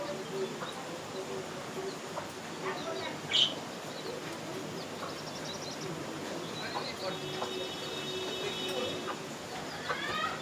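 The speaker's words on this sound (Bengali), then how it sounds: "কত পায়রা হয়ে গেলো ওখানে।" Pigeons coo and chirp faintly in an outdoor setting, with birdsong scattered across a steady background hiss and one brief louder call near the start.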